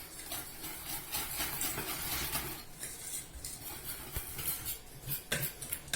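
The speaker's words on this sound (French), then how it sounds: "Donc avec le fouet, je vais bien mélanger mes poudres." A whisk mixes ground hazelnut, sugar and starch powders in a bowl, giving soft, fast scraping and clinking strokes that stay quiet and continuous.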